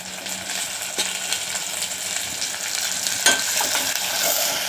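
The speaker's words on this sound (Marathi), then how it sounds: "कांदा चांगला भाजून घ्यायचा." Chopped onion sizzles and fries in a pan for a Marathi matki amti curry, a steady hiss with a few sharp clinks of a spoon against the pan, no voices.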